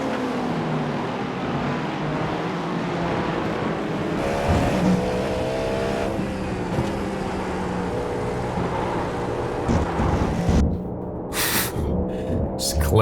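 A prototype race car in the iRacing sim at Hockenheim drones loudly and continuously with its engine note shifting through gears, with tire noise and a brief scrub near the end.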